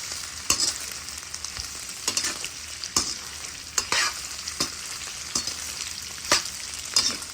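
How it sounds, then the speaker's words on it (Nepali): Pig intestines fry in plenty of rendered pork fat, a continuous close sizzle broken by regular scraping stirs roughly every second, with no voices. "मजाले खरिँदैछ।"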